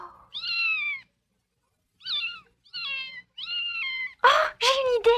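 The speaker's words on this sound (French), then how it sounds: "C'est pour me faire plaisir qu'elle m'a donné ce joli petit chat." A small cat meows repeatedly, thin rising and falling mews with pauses between them, ending in a few louder, harsher cries close by.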